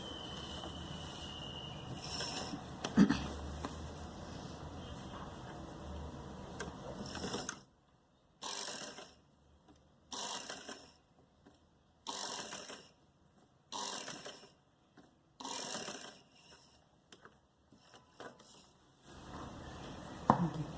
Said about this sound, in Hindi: यहाँ हम सिलाई लगा के इसको फिक्स करेंगे